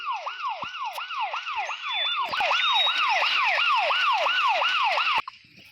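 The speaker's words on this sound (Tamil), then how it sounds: "அப்புறம் வந்து போலீஸ் காரு சைரன் பாருங்கள்." A toy police car siren wails in a fast, repeating yelp, loud and steady, then cuts off abruptly near the end.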